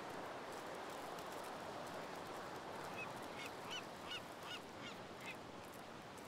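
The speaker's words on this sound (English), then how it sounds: "Nice seagull noises" Seagull cries from The Sims 3 Island Paradise game, a short run of faint squawking calls over a steady wash of surf-like ambient noise.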